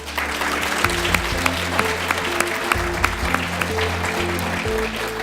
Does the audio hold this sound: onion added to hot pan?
no